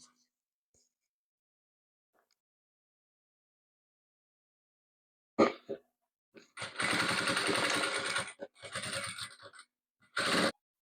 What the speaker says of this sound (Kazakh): Міне осылай мынаны тігемін.